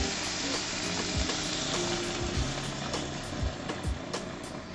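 Tomatoes fry in a pan with a loud, continuous sizzle, close and steady, broken by a few faint knocks and scrapes.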